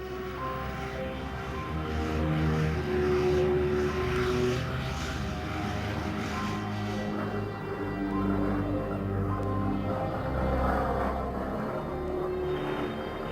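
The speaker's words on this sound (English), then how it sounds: "Admiral Byrd's aircraft flew 500 feet above the geographic South Pole" Admiral Byrd's propeller aircraft flying 500 feet above the South Pole over Antarctica in 1929, a steady droning engine and propeller hum that stays loud and continuous with slight swells, no voices.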